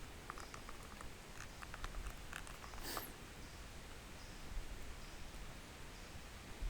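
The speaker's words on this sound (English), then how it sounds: "You just hear the leather as I'm rustling with it." Handmade leather multitool belt sheath rustling as it is handled, giving soft, faint, close-up patters and scuffs scattered over a quiet background, with no voices.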